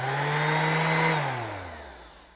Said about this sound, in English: So we need to use a sander